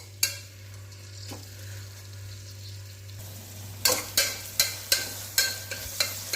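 Onions sauté in a pan for vegetable biryani, first as a soft hiss over a low steady hum, then a run of sharp rhythmic spatula scrapes and knocks as they are stirred.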